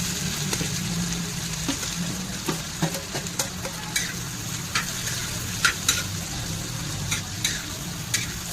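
Plenty of chopped onion fries in oil on a large tava after cumin seeds have crackled, for a chicken gravy. A steady sizzle is broken by repeated scraping stirs, close and without talk.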